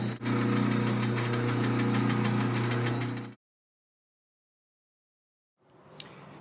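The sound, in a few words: drilling a small hole in cast aluminum rim center cap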